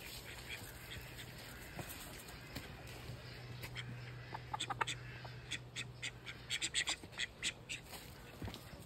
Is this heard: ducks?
yes